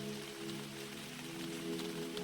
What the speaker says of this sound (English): As raindrops pattered gently on the canopy above their heads